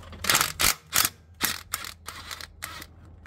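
A cordless impact gun hammering on a bolt during a repair: several sharp, separate bursts of rattling impacts with short pauses between them, close and fairly loud, with no talking.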